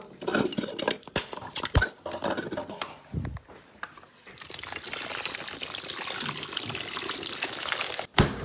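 Apple juice is poured into a cocktail, with scattered clinks and handling knocks at first, then a steady close liquid splash and patter that runs for several seconds before a final knock.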